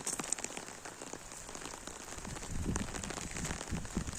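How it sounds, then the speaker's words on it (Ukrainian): Heavy rain patters on an umbrella over garden beds, a dense crackling drumming of drops that grows slightly louder midway, close and steady with no talking. "Дощить під парасолею звук такий."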